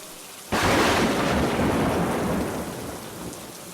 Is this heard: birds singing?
no